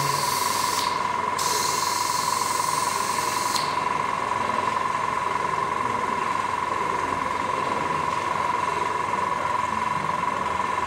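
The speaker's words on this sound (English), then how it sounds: "I love this airbrush" An airbrush sprays paint onto a scale model in two short bursts of bright, airy hiss near the start, over a constant steady tone and background hum that run throughout, with no voices.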